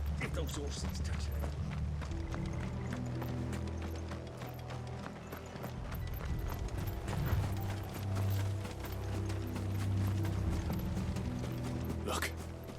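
Horse hooves clip-clop at a steady walking rhythm in Final Fantasy 16, mixed with creaking, ratcheting tack and mechanism noises over a low droning backdrop, with the hoofbeats moderately close.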